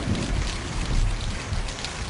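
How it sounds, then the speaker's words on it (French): Dense, steady downpour of heavy rain with a constant roaring hiss and low rumble, no voices. "Il pleut des cordes."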